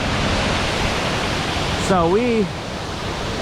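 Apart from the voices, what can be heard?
big raging waterfall, Ricketts Glen Falls Trail, Pennsylvania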